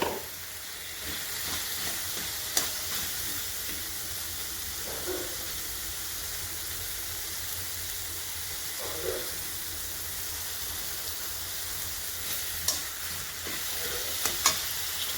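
Dried fish (shutki) sizzles in a pan while a lota shutki chutney cooks, a steady quiet fry hiss with occasional soft stirring clinks and scrapes.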